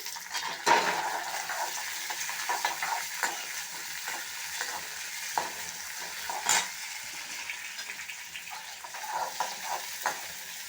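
Sliced onion, green chillies and moong dal frying in oil for carrot chutney, a steady low sizzle with frequent small scrapes and clinks of a spoon against the pan, close up and without talk.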